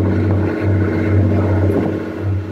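A steady, loud engine drone hums low and close, a motorboat running continuously near Hilton Head, South Carolina, with slight dips in pitch.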